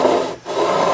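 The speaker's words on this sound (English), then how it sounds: "I see shaving metal coming off there with this one" A fret beveling file rasps across the metal ends of guitar frets, a steady scraping stroke close up that pauses briefly mid-clip before the filing resumes, with no talking.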